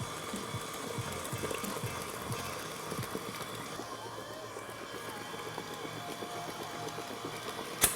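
An electric stand mixer whisks sponge cake batter as eggs are added, giving a steady, continuous motor whir with a rhythmic churning texture throughout, ending with a brief knock.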